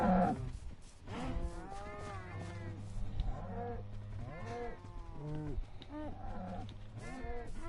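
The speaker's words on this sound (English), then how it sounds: "So many cows." Several cows in Minecraft Bedrock Edition moo repeatedly in long, overlapping calls, with steady background sound and no talking.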